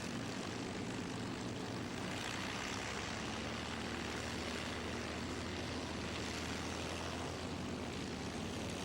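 Damn Yankee, a vintage propeller fighter at Duxford's Flying Legends show, taxis out with a continuous, rumbling piston engine and propeller drone, steady and moderately close, with no voices over it.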